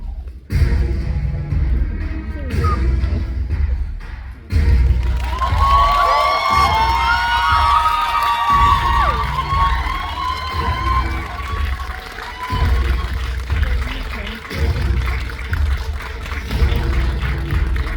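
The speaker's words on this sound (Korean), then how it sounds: "큰 박수로 맞아주세요." An audience at a film screening and guest talk cheers and claps to welcome the arriving guests, with excited shouts and whoops rising over music and sustained crowd noise.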